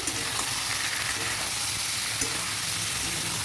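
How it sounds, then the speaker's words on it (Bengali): Dry spices stirred in a hot frying pan for a vegetarian jackfruit curry, a continuous bright sizzle with soft scraping of the spoon, close and steady, with no voices. "এবার নেড়ে নিচ্ছি"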